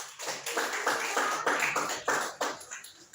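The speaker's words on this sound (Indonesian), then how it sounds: "Baik, aplaus untuk Mas Arfi" A classroom gives applause to a student, with a burst of many hands clapping at a brisk, fairly even rhythm that holds for a few seconds before fading.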